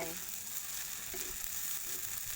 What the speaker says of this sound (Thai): เราก็ผัดจนแครอทมันสุกนะคะ